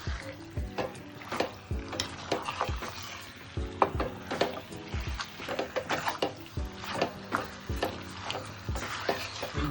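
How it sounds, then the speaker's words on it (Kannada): Masala frying in oil in a pan for mutton sambar, with steady sizzling under repeated scraping and stirring strokes, close and fairly loud, no voices. "ಮಸಾಲೆ ಎಲ್ಲ ಚೆನ್ನಾಗಿ ಹಚ್ಕೊಳ್ಳೋ ತನಕ ಚೆನ್ನಾಗಿ ಫ್ರೈ ಮಾಡಿ."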